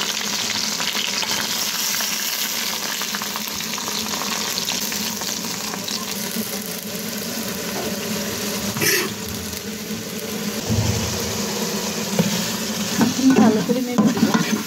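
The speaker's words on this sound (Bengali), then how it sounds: "ভালো করে নেড়ে দিলাম।" Chicken with biryani spice mix, chilli powder and salt sizzles loudly in a frying pan, with continuous stirring scrapes and occasional clinks of the utensil against the pan.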